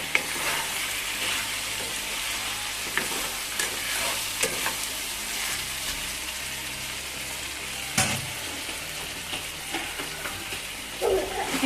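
Meat curry being stirred in a pan, a soft continuous sizzle with scraping stir strokes and a few louder clanks, steady and close throughout.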